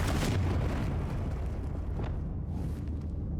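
A Confringo spell bursts in Hogwarts Legacy with a loud, close explosive boom that rumbles and fades over a few seconds, with no voices.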